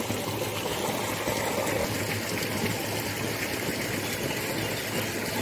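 A waterfall rushes steadily among rocks, a dense, unbroken roar of flowing water that stays constant and fairly loud throughout.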